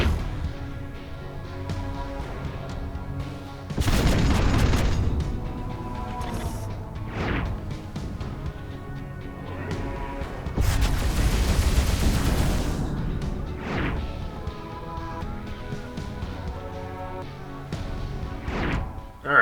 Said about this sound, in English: That's because you use the Gauss cannon around every corner.